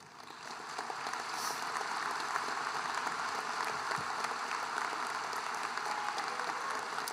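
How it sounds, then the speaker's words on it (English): Applause for the teachers at the Fort Zumwalt East High School 2023 graduation ceremony, a steady, dense wash of clapping from a large crowd that swells in quickly and holds at an even level throughout. "If East High teachers could please stand and be honored with a round of applause."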